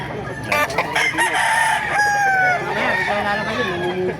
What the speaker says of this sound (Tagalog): Laking manok nito.